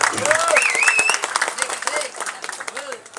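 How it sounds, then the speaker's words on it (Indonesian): An audience at a government gathering applauds, a burst of clapping that thins out over a few seconds while a voice speaks over it. "sekali lagi tepuk tangan untuk Rapi Rider yang saya sebutkan tadi"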